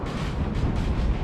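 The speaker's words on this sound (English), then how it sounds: "There is also artillery all the way back there, 12 pounds pounding away." Distant 12-pounder artillery in a Napoleon Total War multiplayer battle, a continuous low rumbling of cannon fire and booms with no clear single shots, steady and moderately loud throughout.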